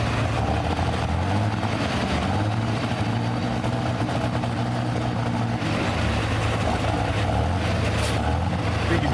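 A light super pulling tractor in the 9,500-pound class roars steadily throughout, a loud, dense engine drone with low harmonic bands that stays constant with no pauses.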